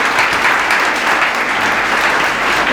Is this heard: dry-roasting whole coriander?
no